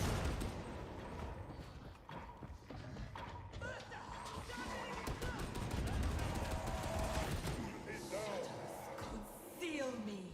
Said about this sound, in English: Point blank barrage is lit.